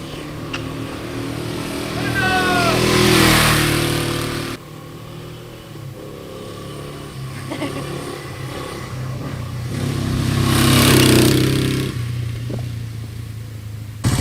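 A Honda SL350 motorcycle engine idles and revs in two rising swells, running smooth with little vibration, close by, while people talk over it outdoors.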